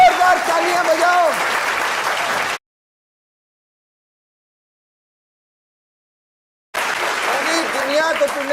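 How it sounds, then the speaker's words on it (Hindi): Studio audience applause at a reality TV show finale, loud dense clapping and crowd noise in two bursts separated by a long stretch of total silence. "जोरदार तालियां बजाओ।"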